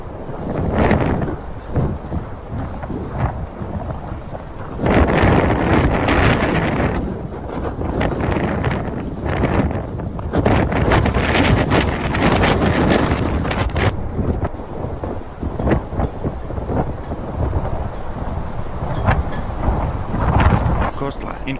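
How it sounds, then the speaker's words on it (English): Strong wind during a 2022 blizzard snowstorm in Buffalo roars and buffets the microphone continuously, with louder gusts surging throughout and no clear speech. "Wind also created problems in Buffalo residents."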